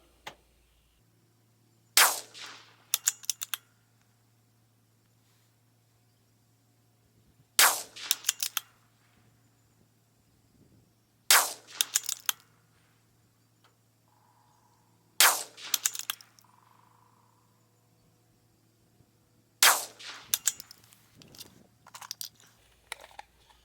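Rifle shots from a CZ 457 rimfire firing CCI ammunition at a range: five sharp cracks spaced several seconds apart, each trailed by brief clattering bolt-action handling and faint rustle, over a steady low hum.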